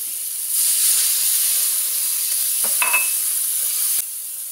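Ground spice paste with a little water hits a hot pan for Sundanese stir-fried kangkung, giving a sudden loud, steady sizzling hiss that holds for several seconds, with a brief scrape of stirring, before cutting off.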